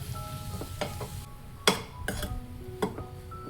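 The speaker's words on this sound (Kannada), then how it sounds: "ಈ ಥರ ಸ್ಮ್ಯಾಶ್ ಮಾಡ್ಕೊಳ್ತಾ ನೀಟಾಗಿ ಕಲಿಸ್ಕೊಂಬರೋಣ" Boiled potatoes being mashed and mixed in a pan, soft squelching presses and scraping strokes with a few sharp utensil clinks against the vessel, close and fairly quiet.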